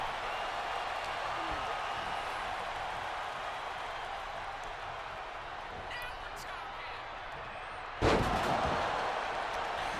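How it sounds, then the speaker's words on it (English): A wrestler crashes down with a pump handle power slam in WWE 2K24, landing as a sudden loud thud near the end over a steady arena crowd roar, with a commentator talking throughout. "Nice pump handle power slam there."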